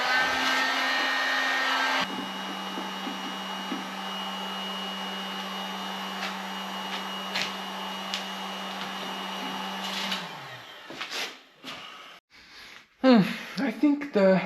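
A heating element on a plexiglass strip bending machine runs with a steady electric hum and whir for about ten seconds, then switches off, leaving handling clatter and breathing nearby.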